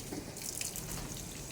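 Cold water pours steadily over a goat being washed, a continuous soft splashing hiss that runs unbroken and fairly faint throughout, with no voices.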